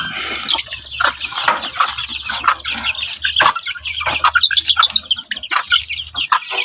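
Chicks and hens clucking and peeping close by right after feeding, a busy overlapping flock chatter with frequent short calls and no speech.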